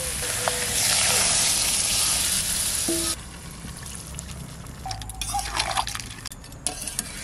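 Potatoes and crab pieces sizzle loudly in hot spiced oil, then water is poured in and the frying hiss drops to a softer bubbling, with light stirring and a few clinks near the end.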